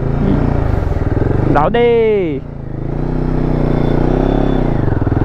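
A Royal Enfield Himalayan 450 motorcycle idles and pulls away, its steady engine thrum dipping briefly and rising again, with a person speaking over it partway through.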